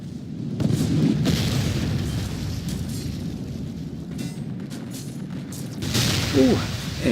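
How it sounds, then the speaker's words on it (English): A mortar shell in the strategy game 1648 Thirty Years War bursts amid continuous rumbling battle booms and gunfire, with a louder blast near the end; a voice talks over part of it. "Ooh, and a mortar scores a bullseye."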